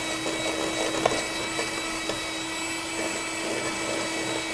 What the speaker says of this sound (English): As you're whisking, move the bowl around so all the air gets into the mixture.